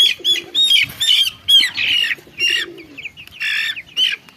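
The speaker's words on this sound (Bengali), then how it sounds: "এই যে কবুতরের ডাক শোনা যায়" Pigeons call outdoors close by, giving a loud run of repeated squawking and cooing bursts with brief gaps between them, over a faint background.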